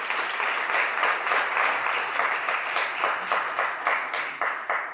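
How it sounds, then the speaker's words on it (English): Round of applause at a legislative oversight committee hearing: a room of people clapping steadily and fairly close for about five seconds, with no voices over it. "Can we give them a round of applause, please?"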